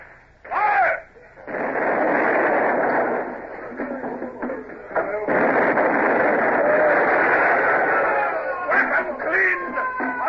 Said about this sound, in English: Starboard carronades load with grape shots.